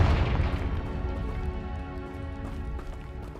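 Confringo spell blast from Hogwarts Legacy, cast at a poachers' blockade: a booming explosion at the start, deep and loud, that fades into a lingering rumble with scattered crackles over a few seconds.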